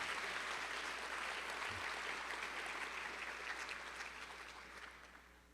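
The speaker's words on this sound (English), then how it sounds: "Could we give a round of applause for those 3 people who've made this possible?" Sustained audience applause fills a high school awards night, a dense wash of clapping from a large crowd that holds steady and then slowly tapers off near the end, with no voices over it.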